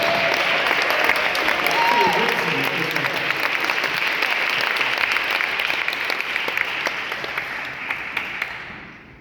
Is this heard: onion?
no